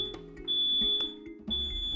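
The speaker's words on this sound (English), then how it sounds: "Yes, the wildfire alarm." Wildfire alarm sound effect playing during a tabletop role-playing session: a piercing high electronic tone sounding in two long bursts with a short gap between them, loud and steady, over faint background noise and no talk.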